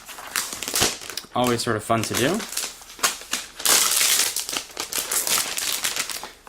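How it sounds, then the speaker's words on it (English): Protective plastic film crinkles and tears as it is peeled off a new 11.6-inch MacBook Air, a run of close crackling rustles mixed with someone talking over it. "Let's go ahead and peel off the plastic."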